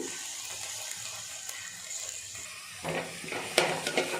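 Paneer fried rice with tomato sauce and soy sauce sizzling in a pan while being stirred: a soft, continuous hiss with scraping and clinks from the utensil that grow sharper toward the end, and no voices.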